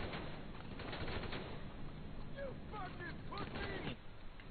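Gunfire in Grand Theft Auto Online comes as bursts of rapid shots under a busy game mix and a talking voice, moderately loud but muffled and compressed.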